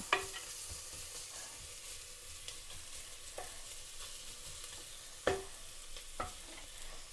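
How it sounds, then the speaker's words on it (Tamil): Onions sautéing in a pan for tomato rice: a soft, steady sizzle under occasional light taps and scrapes of a stirring spoon, quiet and close with no voices. "இப்போ இந்த வெங்காயம் ஒரு 5 நிமிஷம் வதங்காட்டு"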